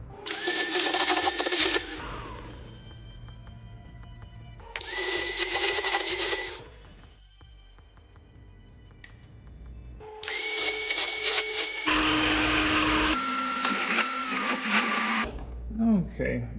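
An electric hand mixer creaming pineapple upside-down cake batter with eggs whirs loudly in three separate runs, the last one longest, with a voice talking during the quieter pauses between them.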